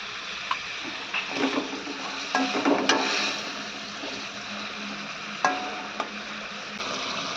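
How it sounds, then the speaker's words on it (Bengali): Crab pieces fry in a pan with a steady soft sizzle, broken by intermittent clinks and scrapes of stirring. "ক্যাংড়াগুলো ভাজছি"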